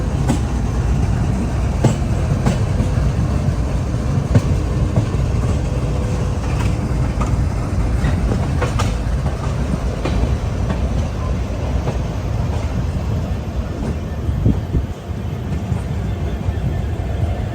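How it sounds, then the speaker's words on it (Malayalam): Steady loud rumble of an express train arriving at Vizianagaram railway station, with faint rhythmic clacks of wheels on track, continuous throughout, with voices occasionally underneath. "നമ്മുടെ ട്രെയിൻ എത്തിക്കൊണ്ടിരിക്കുകയാണ്."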